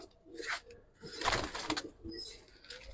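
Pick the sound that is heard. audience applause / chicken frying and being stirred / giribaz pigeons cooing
giribaz pigeons cooing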